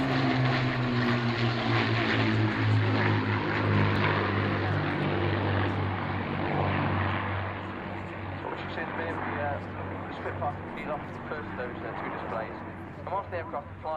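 An Avro Lancaster propeller aircraft at a BBMF flying display passes with a loud, throbbing engine drone whose pitch sinks as it goes by and then fades, while voices talk over the latter half.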